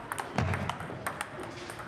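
Quick light pings of a table tennis ball being struck, several hits in an irregular rally rhythm over a soft roomy background.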